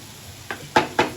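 Brinjal (eggplant) varuval stirred and fried in a pan, three sharp scraping clatters of a utensil against the pan over a faint background sizzle.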